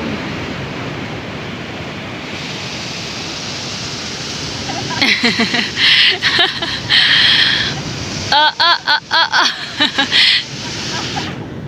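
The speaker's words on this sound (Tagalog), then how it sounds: "Ang ganda ng alon." Ocean surf washes in a constant roar while people talk loudly over it in short bursts.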